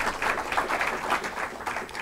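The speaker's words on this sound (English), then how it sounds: "It does deserve applause." An audience at a political talk breaks into applause, a dense, steady wash of many hands clapping close together for a couple of seconds with no voices over it.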